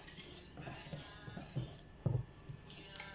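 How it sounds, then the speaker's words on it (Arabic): Flour being folded into nut cake batter with a utensil in a bowl, quiet scraping and soft clinks against the bowl in an irregular rhythm, close and faint, with a couple of sharper knocks. "كما تشوفون احاول انزل الطحين وامزجه ويا الخليط"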